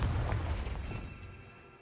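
A Confringo fire spell in Hogwarts Legacy lets off a deep booming blast with a rumbling low thud that fades out over about two seconds.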